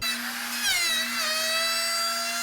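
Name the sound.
large D-handled router cutting strips of wood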